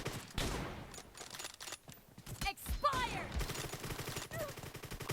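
Bursts of rifle fire in a PUBG Mobile match, rapid cracking volleys scattered across the moment with a loud close shot near the end, heard amid game ambience with no speech over it.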